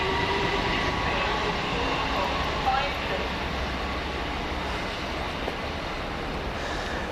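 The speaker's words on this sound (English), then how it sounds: "the London Overground service to Dalston Junction disappears off" A London Overground train to Dalston Junction pulls away, its steady rumble and wheel noise fading as it recedes, with someone talking over it.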